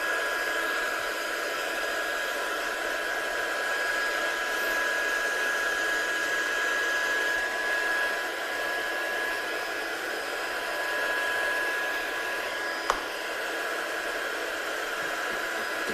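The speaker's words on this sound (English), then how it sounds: "So I'm just going to dry this off." A hair dryer blows steadily on a decal card for a long stretch, a constant close airy roar with a thin whining tone on top and one brief click near the end, no speech.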